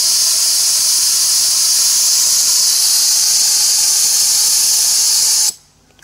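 A commercial sandblast gun with a 6mm nozzle fires a loud, continuous high-pitched air hiss for about five seconds, then stops abruptly into near silence.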